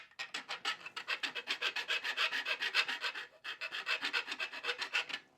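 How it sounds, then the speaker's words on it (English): A metal file rasps on guitar fret ends in quick, even back-and-forth strokes close up, with a brief pause partway through. "filing it down, turning it around, and in this type of motion"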